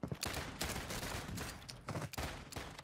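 Pistol gunfire in a first-person shooter, a dense run of close, sharp shots in quick succession with brief gaps, loud and continuous across the moment, no talking over it.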